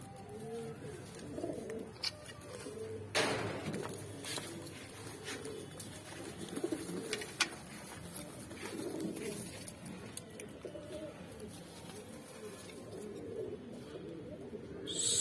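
Soft coos from Saharanpuri kasni mix pigeons at a pigeon sale in Mandi Dhanaura, Uttar Pradesh, repeat over steady outdoor noise, with rustling and a few brief flutters.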